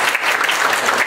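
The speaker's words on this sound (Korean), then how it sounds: "좀 일어나셔서 박수 한번 쳐주십시오." Applause from an audience at a boxing title-match press conference in a hall, a dense, steady burst of clapping heard close and loud throughout.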